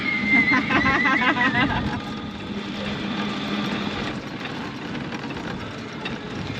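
A car travels at high speed near Hierapolis in Pamukkale, Turkey, giving a steady, loud broadband engine and road roar with some voices over the first seconds.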